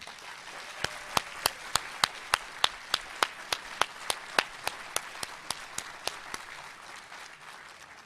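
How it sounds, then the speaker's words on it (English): Applause at a mental health conference opening, only a few distinct claps at an even, slow pace that fade out, sparse and fairly distant in a large room. "So let's give a round of applause and gratitude to the planners for today's event."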